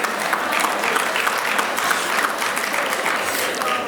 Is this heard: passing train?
no